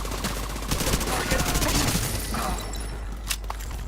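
Rapid SMG machine-gun fire in Division 2, a dense continuous burst of shots at close range with a few sharper impacts near the end.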